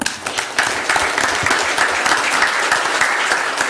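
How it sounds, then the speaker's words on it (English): A room full of people applauding at a board of directors meeting, steady dense clapping that stays loud and even throughout, with no speech over it. "So let's give them a round of applause."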